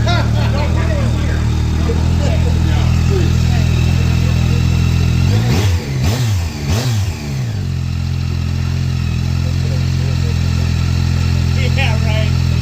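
A 2025 Yamaha R9 motorcycle engine cranks and fires mid-way, giving a short burst of revs before it settles into a steady idle, with people talking close by throughout.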